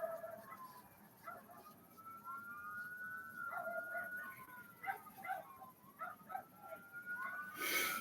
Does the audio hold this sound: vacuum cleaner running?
no